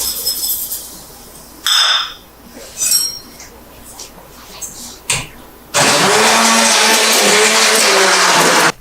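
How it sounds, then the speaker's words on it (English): An immersion blender whirs in a thick homemade sugar, cinnamon and ginger drink, starting after a few short clinks and bursts, then running loud and continuous near the end. "I'm going to use my immersion blender and blend it all up"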